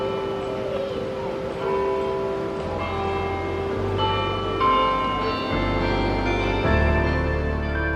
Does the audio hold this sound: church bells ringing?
yes